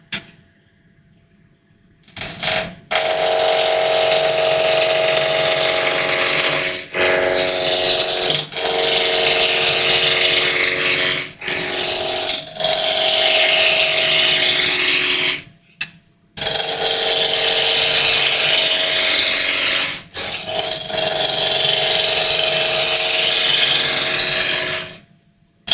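A wooden apple spins on a wood lathe at about 1,000 rpm while a roughing gouge cuts it round, giving loud, continuous rasping and scraping broken by several short pauses.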